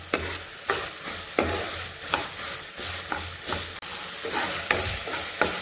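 Tomato sauce for pasta sizzles in a pan while a spatula scrapes through it in regular strokes, roughly one every second or less, close and steady.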